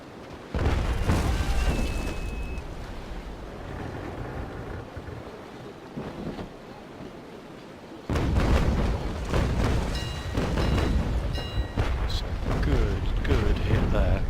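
Cannon fire striking a wooden sailing ship in the naval combat game Naval Action, heavy low booms and crashing impacts over wind and ocean wash, with a sharp loud burst midway and someone talking intermittently.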